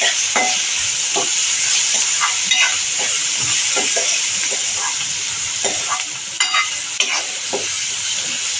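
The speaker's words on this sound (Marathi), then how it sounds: "आपण त्याच्यावर कांदा घालणार आहोत हे सगळं छान परतून घेणार आहोत" Onion and chickpeas fry in a pan for tempered rice, a loud constant sizzle broken by repeated scraping stirs of a spoon, close up with no speech.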